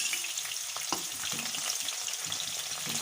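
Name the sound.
spring onion white and green parts frying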